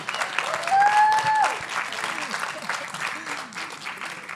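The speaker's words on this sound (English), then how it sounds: "Round of applause again." An audience gives a round of applause at a book festival poetry event, dense sustained clapping that swells and then holds steady, close and loud, with a brief whistle-like tone near the start.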